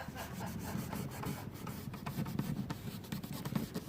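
Cloth wiping over the wooden saddle of an Ibanez acoustic bass guitar, a steady close rubbing swish with small irregular strokes throughout, no voices.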